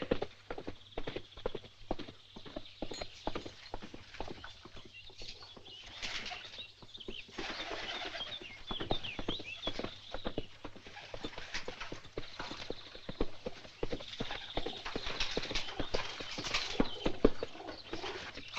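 Horses walking, a steady run of close hoof clip-clops keeping an even rhythm throughout, with some flapping and rustling mixed in and no talk.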